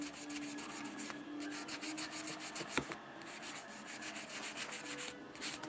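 Steady rubbing of a nail buffer's burgundy side across fingernails to smooth ridges, quick close back-and-forth strokes with no talking.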